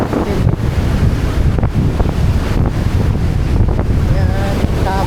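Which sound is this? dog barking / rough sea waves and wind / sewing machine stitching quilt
rough sea waves and wind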